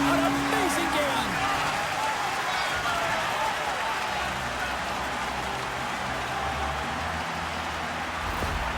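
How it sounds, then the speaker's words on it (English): Arena crowd in the NHL 26 hockey video game applauding and cheering after a game-winning goal, a loud, steady roar with a broadcast commentator talking over it. "Listen to this crowd salute an amazing game!"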